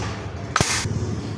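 A single sharp air rifle shot from a budget Indonesian pump-action air gun cracks once near the middle, loud and close, then a brief hiss of decay fades into steady outdoor background noise.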